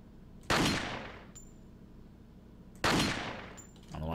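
Two heavy gunshots in Resident Evil 4, each a loud, sharp blast with a long echoing tail, spaced about two seconds apart, followed by a brief low rumble.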